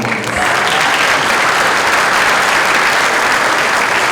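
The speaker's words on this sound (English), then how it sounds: "Nice round of applause." Loud, dense applause from the audience at a police chief change of command ceremony in Delray Beach, a continuous roar of many hands that holds strong and even from start to finish.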